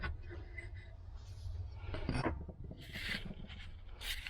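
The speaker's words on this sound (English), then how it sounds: "kind of using the hook knife to bring it out" A hook knife scrapes in short, light, shallow strokes at the bowl of a small wooden teaspoon being hand-carved; quiet, close rasping in a few separate bursts.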